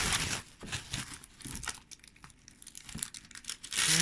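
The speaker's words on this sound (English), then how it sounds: "I'll unwrap this pastry" Packaged pastry being unwrapped over a floured board in a home kitchen while making a jam tart, a near and steady run of crinkling and rustling wrapper that grows louder again at the end.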